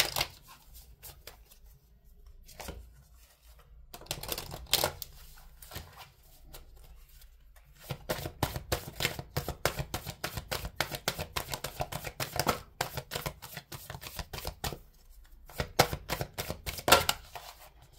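Oracle cards being shuffled by hand in repeated riffling bursts, crisp papery flutters that come in quick clusters with short pauses, fairly close and alone.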